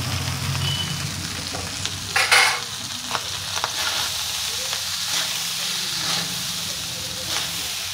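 Sun-dried atap rice being stirred and fried in a pan: a steady sizzling hiss with scraping stir strokes, sharpest around the two-second mark, close and continuous with no talking.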